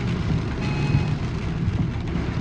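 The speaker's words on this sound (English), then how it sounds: "And it's already raining heavily" Heavy rain heard from inside a car, a dense steady hiss and patter drumming on the roof and windows, loud and continuous with no talking.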